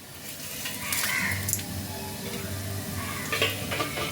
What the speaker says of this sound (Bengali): এই সব কিছুকে দিয়ে কয়েক সেকেন্ড তেলের মধ্যে ভালো করে নাড়াচাড়া করে নেব